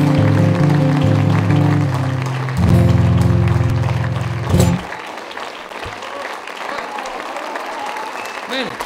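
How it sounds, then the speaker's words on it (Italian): A song at a comedy stage show winds down on held musical tones, then cuts away to a theatre audience's applause that carries on steadily through the remaining seconds. "Finale sfumando, applauso in crescendo."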